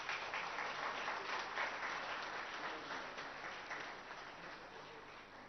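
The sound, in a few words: audience applause welcoming a minister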